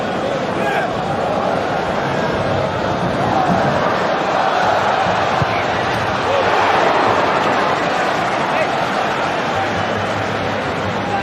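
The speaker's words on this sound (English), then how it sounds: "probably has drawn a bigger roar of approval from the crowd" A large football stadium crowd sends up a sustained roar of approval, a dense continuous wash of voices that stays loud and steady throughout, with commentary talk running over it.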